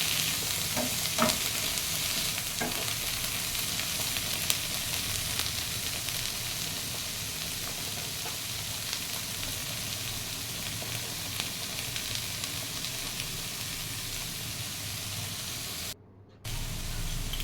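Vegetables sautéing with a pinch of salt in a pan for paneer butter masala biryani, a dense unbroken sizzle with occasional stirring scrapes, briefly cutting out near the end.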